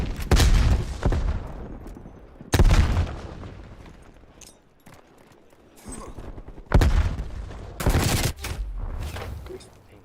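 Bursts of automatic AK rifle fire in Call of Duty Cold War come in several loud rapid volleys with quieter gaps, and a voice talks faintly in places.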